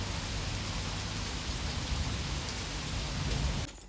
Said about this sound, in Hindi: ये देखो, सुबह सुबह इतनी तेज़ बारिश हो रही है